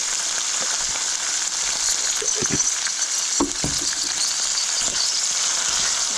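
Steady crackling sizzle of grasshoppers deep frying in hot oil, continuous throughout, with a few louder bubbling bursts and faint clinks in between.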